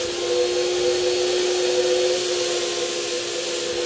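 A paint sprayer applies metallic rose gold paint to furniture, giving a continuous, close, even hiss with a steady whining hum underneath that lasts the whole stretch without pause and with no talking.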